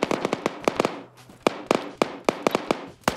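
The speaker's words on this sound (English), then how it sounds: "HE shells detonating within feet of them." Battlefield explosions from high-explosive shells in a video game firefight, rendered as a rapid series of sharp, loud cracking bursts at irregular intervals with no talk over them.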